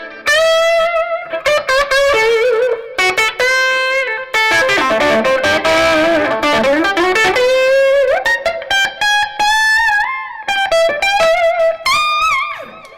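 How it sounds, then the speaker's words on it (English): An electric guitar on its bridge pickup plays through effects with distortion and modulation. Loud sustained notes and quick bursts of phrases ring out alone, with no talking. "I love the sound of this guitar"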